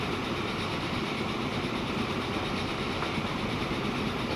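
Train running in the Transport Fever 2 video game, a steady low rumble of rolling rail cars with faint clickety-clack, continuous and even throughout, no voices.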